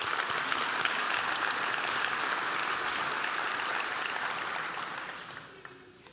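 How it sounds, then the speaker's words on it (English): A room of attendees at an energy summit applauds elected officials, a thick, even wash of clapping that holds steady and then tapers off toward the end. "A round of applause to our elected officials,"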